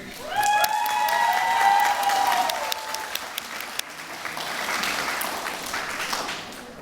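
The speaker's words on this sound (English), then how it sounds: "Can we give an applause for how beautiful the bride looks today?" Wedding guests applaud the bride during a reception speech, a full round of clapping that swells and holds. A bright ringing tone sounds near the start, then fades, and the clapping carries on to the end.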